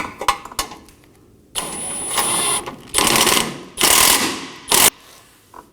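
A ratchet on the impact absorber bolts of a Toyota Corolla clicks rapidly in several bursts. Long, loud runs of pawl ratcheting alternate with brief pauses and a few short taps at the start, close to the listener.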